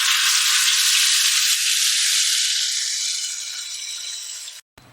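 Spice paste frying in a pan for Punjabi chicken curry, with a loud, bright sizzle that starts strong and slowly fades, then cuts off abruptly near the end.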